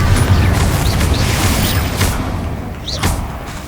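Incendio fire spell cast in Hogwarts Legacy, a dense roaring whoosh of flame over booming combat effects, with short zipping spell sounds flaring up near the start and again later.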